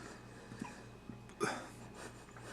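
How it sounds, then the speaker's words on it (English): A man hiccups after eating a Savannah 7 Pod hot pepper; a few soft, short hiccups spaced apart, with one sharper catch near the end, close and quiet with light breathing between. "Probably gonna get hiccups in a second."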